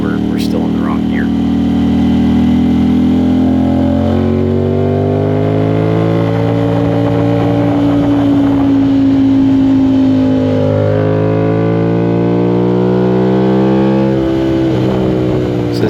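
An Aprilia RS660 with a CRT exhaust laps a track day at Barber Motorsports Park, its engine droning loud and close as the pitch slides up and down, with a rider talking over it.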